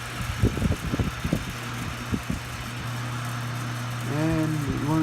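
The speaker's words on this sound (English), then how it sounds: "As you can hear, the metal blade with the Fasco motor gives a rather nice start." A 1974 Kmart K-10 10-inch tilting table fan with a metal blade and Fasco motor switches on: a few knocks and clunks, then a steady motor hum that rises as the blade spins up, close and fairly loud.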